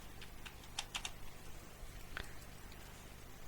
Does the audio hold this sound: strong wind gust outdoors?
no